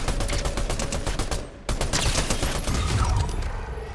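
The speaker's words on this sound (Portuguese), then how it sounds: "Vou atirar aqui assim, acho que eu pego ela." Rapid gunfire in the mobile battle royale game Free Fire: a loud, continuous string of shots in close succession with a brief break partway through.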